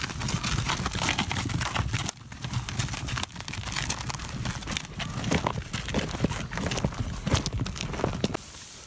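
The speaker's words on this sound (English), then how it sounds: "So cows are on the move." Cows on the move at a no-dig market garden, their hooves clopping and shuffling steadily and fairly close over continuous rustling ground noise.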